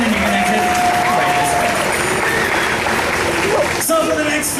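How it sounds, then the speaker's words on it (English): Audience clapping at a Halloween horror circus show, a steady wash of applause from a crowd with some voices mixed in, cutting off sharply near the end. "use a round of applause for helping out"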